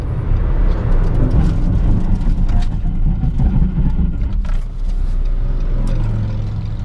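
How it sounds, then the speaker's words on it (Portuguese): A 2016 Nissan March SL CVT braking to a stop on a road test, heard as a loud, steady rumble of engine and road noise from inside the car that eases slightly as it slows. "O carro parou em linha reta, correto?"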